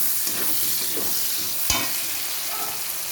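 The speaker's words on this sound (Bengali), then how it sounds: "শুকনো লঙ্কা দিয়ে পেঁয়াজটা দিয়ে দিয়েছি ফোড়ন।" Onion fries in hot oil with five-spice and dried chilli, a continuous close sizzle with a spatula scraping and one sharp knock against the pan midway.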